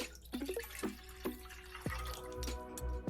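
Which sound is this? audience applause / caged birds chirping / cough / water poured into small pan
water poured into small pan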